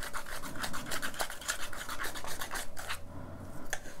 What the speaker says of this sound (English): I'm going to use this sand, and I'm just going to throw my sand in there.